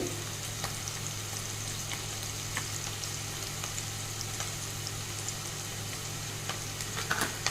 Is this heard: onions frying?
yes